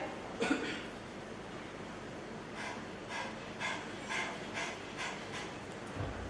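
A person imitates a dog panting during a public speaking competition, giving a series of rhythmic breathy pants with the tongue out. The pants are moderately faint, come in a steady run after one louder onset, and no speech is heard.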